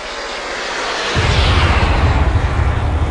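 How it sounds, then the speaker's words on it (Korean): Helicopter in the Arma 3 military war simulation sweeping overhead: a loud, broad rotor-and-engine roar that swells abruptly after a quiet start, with dense low thumping and rushing wind noise, heard alone. "뭐야 헬기 소리"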